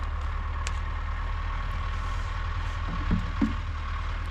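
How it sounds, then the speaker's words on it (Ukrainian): A steady low tractor engine drone with a constant rumble as it drives up nearby, with a couple of faint thumps toward the end. "Все, їде вже другий трактор заправлятися."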